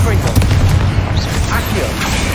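Repeated Confringo fire spells go off in Hogwarts Legacy, with deep booming blasts and rumbling impacts. A voice calls out spell names over the explosions.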